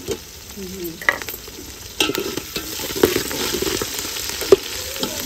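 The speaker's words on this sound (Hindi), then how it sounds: "प्याज जो है हमारे अच्छे तरीके से ब्राउन हो रहे हैं।" Onions and green chilies frying in a pan, a steady close sizzle with scraping stirs and occasional clicks of a utensil against the metal, no talk.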